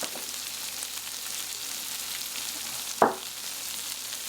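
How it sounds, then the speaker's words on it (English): Diced jalapeno sizzling in a pan for potato soup, a soft steady frying hiss with one sharper burst of sizzle as the pieces hit the hot surface, close and fairly quiet with no talking. "Some diced jalapeno, which we're going to cook with them."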